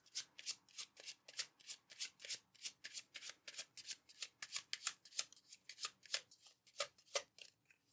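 A deck of tarot cards is shuffled in a quick run of crisp, rhythmic riffling snaps, about three per second, close and distinct, each burst separated by brief gaps.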